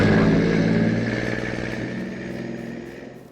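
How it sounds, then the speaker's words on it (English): Truck engine in Farming Simulator 22 at a mine site, a loud rumbling drone that fades steadily as the vehicle pulls away. "now that the noisy truck is gone"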